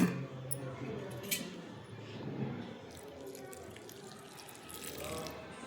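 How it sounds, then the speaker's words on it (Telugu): Cold water trickles and splashes into a bowl of spiced lentil and flour dough mixture for savoury fried crackers, a quiet, close pouring and squishing, with a voice faintly present at moments. "దీంట్లో మనము వాటర్ వేసుకొని"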